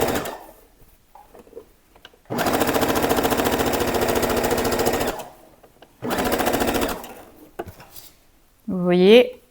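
Domestic sewing machine stitching a sleeve hem on a Japanese-sleeve top, running in two steady bursts of rapid, even needle clatter with quiet pauses between, then a brief stop.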